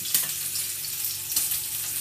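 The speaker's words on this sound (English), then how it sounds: "So we're just going to chuck that in that hot oil. We're going to fry that off." Beef pieces frying in hot oil for a spicy Korean beef noodle soup, a steady close sizzle with a few brief bursts of crackle and stirring, no voices.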